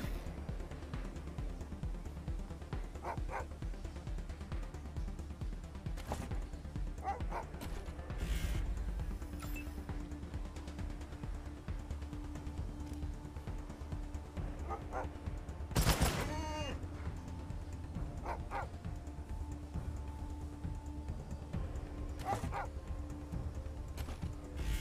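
Dog barks in the video game Wasteland 3, mixed with bursts of gunfire and combat noise, with a sharp loud impact around the middle and steady game sounds underneath.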